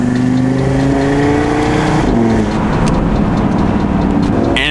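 A factory-valved Audi RS3 engine and exhaust revs hard, a loud, close, continuous roar with rising and falling pitch through the throttle sweep, no talking over it.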